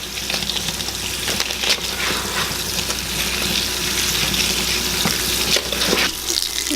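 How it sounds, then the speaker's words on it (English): Dried leather britches beans, dusty from hanging in a pantry, are rinsed under running water in a kitchen, giving a steady hiss of water with sloshing and splashing bursts throughout. "Now we really want to rinse them well"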